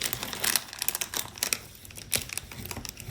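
A plastic bag is crinkled and handled while Lego pieces from an advent calendar are gathered into it, giving close, irregular rustling bursts with no talking.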